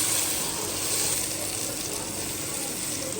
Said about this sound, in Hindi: सारी चीज़ों को अच्छे से मिक्स कर लेंगे और 2 से 3 मिनट के लिए अच्छे से भून लेंगे।